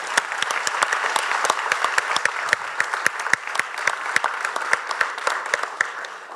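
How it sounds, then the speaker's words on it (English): An audience at a conference session gives a round of applause, distinct individual claps from a modest crowd, close and lively, tapering slightly at the end. "give them a round of applause for making this happen"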